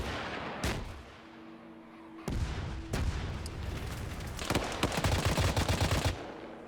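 Gunfire and explosive blasts in a military shooter game during an operation against a radar site, with RPG fire: sharp broadband shots and bursts recur through the clip, with a heavy boom midway and a dense rattling volley near the end.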